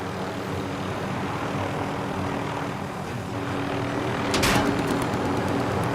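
A propeller airplane engine in a video game drones steadily at close range, holding an even roar with a brief rise in intensity near the end.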